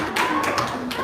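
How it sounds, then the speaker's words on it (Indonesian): A few scattered hand claps, about four quick slaps, sound over a busy, steady indoor background. "Tepuk tangan dong."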